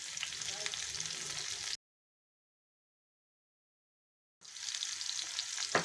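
Onion sizzling in hot oil with garlic, cumin, mustard seeds, urad dal and green chilli for a tomato curry: a steady hiss that cuts to silence for a few seconds, then returns just as strong.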